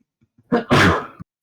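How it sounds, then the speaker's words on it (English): A single sharp human sneeze during a tabletop Dungeons & Dragons session, a short inhaled build-up followed by a loud explosive burst, close to the microphone with no talk around it. "To whoever sneezed."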